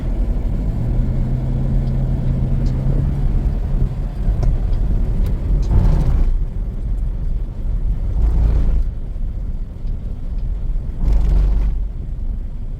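Road traffic in Bangkok, Thailand: a steady low rumble of cars with several vehicles swelling past nearby at intervals, no one talking.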